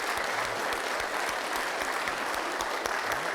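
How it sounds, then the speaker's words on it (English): Dense, even crowd applause at a live sports event welcoming a college basketball broadcaster, a thick wash of clapping that holds steady throughout. "Give Fran a round of applause,"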